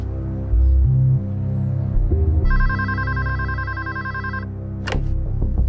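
A telephone rings with a bright electronic trill in a long burst, over a low hum and steady background, with a sharp click near the end.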